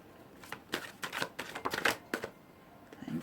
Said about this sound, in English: shuffle for a couple of advice cards for you now